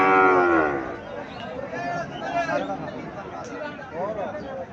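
A Sahiwal cow at a cattle market moos loudly up close, followed by a few shorter, fainter lowing calls over a murmur of crowd chatter and voices.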